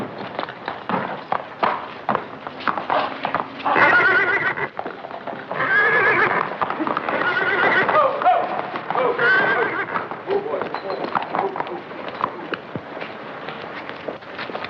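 Horse in a 1944 Western film whinnying loudly several times over rhythmic clip-clopping hooves and crowd bustle, close and sustained across the scene.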